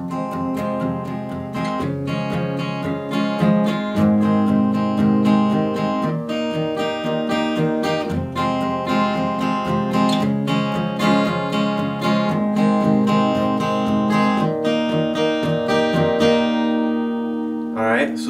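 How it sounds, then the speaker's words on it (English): An acoustic guitar repeats a steady pattern of a bass note followed by quick upward strums, continuous and close, with no talking. "you're playing the root note and then you're strumming up"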